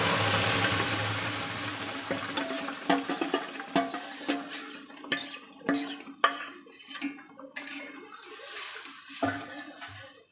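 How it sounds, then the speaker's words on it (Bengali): Boiled masoor lentils poured into a cooking pan of tomatoes, giving a wet splashing and sloshing with scattered clinks of a spoon against the metal pan, close and fairly quiet. "এবারে সিদ্ধ করা ডালটা এর মধ্যে"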